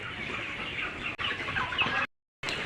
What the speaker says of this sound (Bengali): তো প্রিয় দর্শক আপনারা দেখেন এখানে দশটা মুরগি নেওয়া হয়েছে